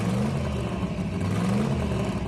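Blitz RX-7 with a 13B rotary engine and turbo, racing in a video game drag event, its engine humming and revving steadily at mid pitch with no voices.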